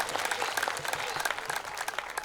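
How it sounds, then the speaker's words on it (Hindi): A crowd at a Hindi comedy poetry gathering claps loudly and steadily, close and continuous, with no voices over it. "एक बार तालियां बजाए जोरदार भाई साहब के लिए।"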